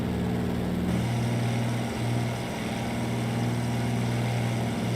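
A de Havilland Beaver's radial engine in a flight simulator game drones steadily through its takeoff roll down the runway, a loud continuous propeller hum with a slight shift in pitch partway through and no talk.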